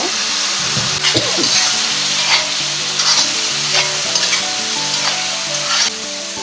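Potatoes fry in a pan with cumin and turmeric powder. The sizzle is loud and steady, close by, with a few stirring scrapes and no speech.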